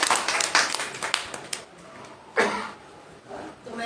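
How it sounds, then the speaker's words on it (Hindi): Audience applause at a poetry gathering, a burst of clapping that fades, then a second smaller round of claps, moderately near. "एक बात तबीयत से जोरदार तालियां"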